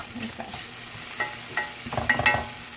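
Potatoes being tossed in a frying pan, several clattering turns and scrapes over a light sizzle, close and moderately loud.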